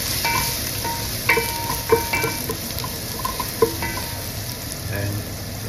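Garlic sautéing in a pan as the first step of pinapaitan, a continuous close sizzle broken by several sharp clinks and scrapes of a spoon against the pan.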